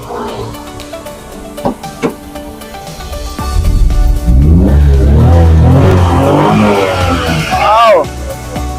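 A Suzuki Scrum 4WD pickup with canopy revs its engine up close, a rough low drone that swells and climbs in pitch through the second half after a few quieter knocks and bumps, with voices speaking over it.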